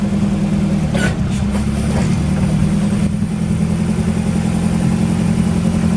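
A Mitsubishi FG20 pneumatic-tire forklift with a 4,000 lb capacity runs with a loud, steady engine rumble close by. A few brief clanks sound early on, and the rumble then continues evenly with no one speaking.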